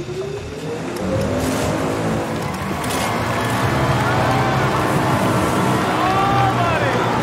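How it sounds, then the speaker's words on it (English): Giant fans driven by 350 horsepower V8 engines fire up on a game show course, a loud, sustained engine roar that builds and revs continuously, with voices under it. "Those fans are powered by 350 horsepower V8 engines."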